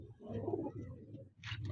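Soft, low cooing from a pigeon of the Sona Teddy Pakistani breed, a few throaty murmured phrases close to the mic, with a short higher rustle near the end.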